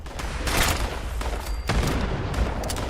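A grenade blast in Fallout 76, a loud broadband boom amid a rumbling burst of gunfire-like crackle, with a sharp burst about two-thirds of the way through followed by lingering rumble.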